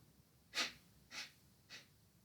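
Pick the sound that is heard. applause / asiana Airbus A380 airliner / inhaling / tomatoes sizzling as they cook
inhaling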